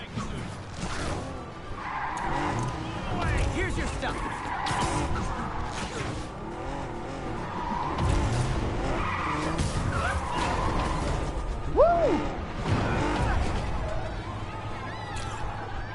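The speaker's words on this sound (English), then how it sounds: "that's a high-speed car chase" Video-game car chase through Manhattan rush-hour traffic in a Spider-Man game, with tires skidding and squealing over steady engine roar, a sharp screech near the end, all under game dialogue and effects.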